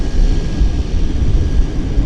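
A Metroliner turboprop, the narrow 'Flying Pencil', taxis out for departure at Vancouver airport, giving a steady low engine rumble and broadband roar that holds evenly throughout, moderately loud with no talk.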